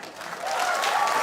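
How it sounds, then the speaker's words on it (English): Comedy club audience clapping at a stand-up show, a dense wash of applause that swells over the first half-second and holds steady and loud to the end, with no talk on top. "Clap if you're here from TikTok."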